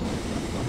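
A British steam locomotive runs in Train Simulator 2019, with its wheels set slightly too wide for the track gauge. A steady, dense rolling rumble continues throughout with no clear beat, fairly loud and close, and no one speaks.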